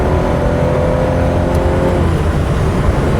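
Car engine held at high revs while accelerating on an open road, a loud, steady drone that stays constant throughout, with no talking.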